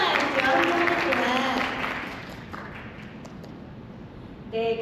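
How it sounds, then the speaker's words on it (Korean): Audience applause for elementary school students at a school parents' meeting and IB education briefing, a broad burst of clapping that starts loud and fades over several seconds, with a short sound rising again at the end. "한 박수 부탁드립니다"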